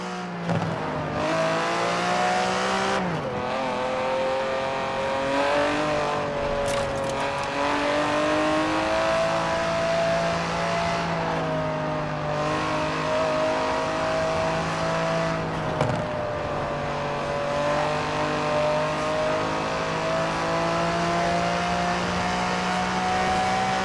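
An Aston Martin DB11's 5.2-litre twin-turbo V12 in Forza Horizon 4, a loud, steady engine drone that rises and falls through several gear changes, heard alone with no talking.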